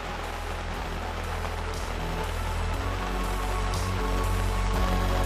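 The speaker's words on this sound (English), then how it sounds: "Waiting the rain out." Rain falling steadily at a campsite in Obatanga Provincial Park, a dense, even patter of drops on surfaces close by, loud and continuous with low rumbling underneath and no voices.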